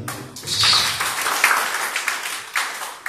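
Congregation applause at a church service in Jakarta, a swelling round of clapping from a crowd with scattered sharper individual claps, fairly close, rising early then tapering in uneven bursts.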